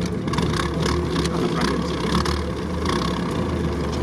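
A Jeep Willys or LuAZ with a Subaru engine idles at low revs outdoors on a morning test run, a steady low rumble throughout, loud and close with no break.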